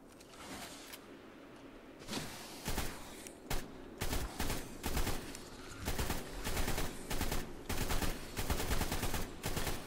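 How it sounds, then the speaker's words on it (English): Gunfire at a mantis in Ark: Scorched Earth, rapid sharp shots fired in bursts and strings that grow denser and louder as the shooting goes on. "Let's keep shooting it."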